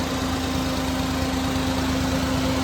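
A 2010 Maruti Alto LXi engine idles steadily with its air conditioning running, a constant close-up drone with a strong low hum and an even, unbroken rumble throughout.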